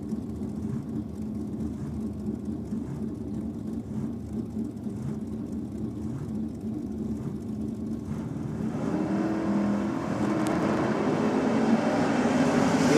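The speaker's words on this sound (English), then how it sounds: "Wheels up launched there for the Monaro" An HQ Monaro drag car at a nitro hot rod drag meet launches off the line, a broad engine roar building steadily louder over the last few seconds over constant background rumble.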